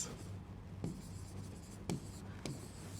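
A topic heading is written on a board, heard as three distinct quick strokes or taps spaced apart over a quiet, faintly humming room, with no talking.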